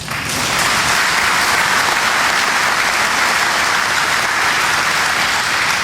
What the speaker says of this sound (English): How about a round of applause for Marv Anderson?